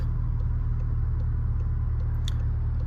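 A Volkswagen Golf R with a resonator delete idles with a deep, steady, bassy exhaust rumble, constant and close throughout.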